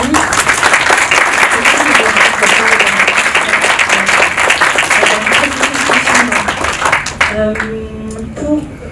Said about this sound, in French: Donc je veux bien que vous l'applaudissiez.